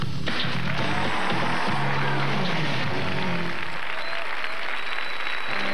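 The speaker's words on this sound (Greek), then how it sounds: "τόσο χειροκρότημα" Studio audience at the live Greek Star Academy show Fame Story 2 bursts into loud, sustained applause that fills the whole stretch, with a few faint voices beneath and the clapping thinning slightly toward the end.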